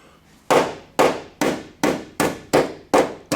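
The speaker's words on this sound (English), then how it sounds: "So I'm just going to hit it with a hammer" A hammer drives a screwdriver through the bad quarter panel of a 1964 Galaxie. About eight sharp, ringing metal strikes land close up in a steady, even rhythm, each followed by a short decaying ring.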